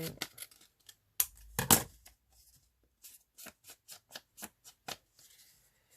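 Scissors snip through printed paper being trimmed for a collage, a string of crisp, close cuts in irregular bursts, heavier slicing early on, then a run of short quick snips toward the end.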